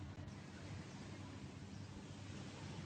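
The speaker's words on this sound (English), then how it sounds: "the rhythmic, eternal sound of the sea" Sea waves wash in a dense, steady roar of surf, broad and fairly soft, with no distinct breaks or voices.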